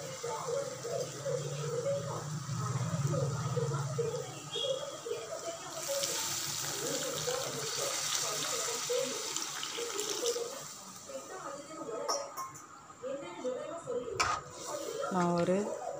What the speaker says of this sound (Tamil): இப்போ நம்ம நம்மளுக்கு தேவையான அளவு தண்ணியை ஊற்றி